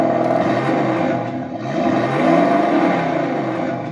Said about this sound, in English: if you do put this throttle stick up on the left and press throttle, it just enables you to rev it on the spot